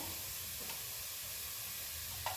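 A steady, loud sizzle of mixed vegetables with capsicum frying in a pan, with a couple of faint stirring scrapes and no talking.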